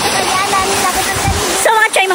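A waterfall pours in a steady broadband rush at a swimming spot, with a voice talking over it near the end.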